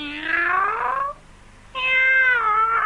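A boy imitates a cat's meow in a film scene, with two long, drawn-out, wavering meows separated by a short pause, both loud and close with no other talk.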